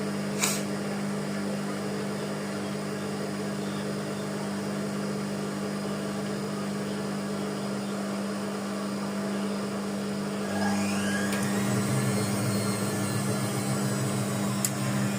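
Washing machine running its spin cycle after a fabric-softener rinse, a steady droning hum with a constant low tone that grows slightly louder and busier toward the end, heard alone with no talking.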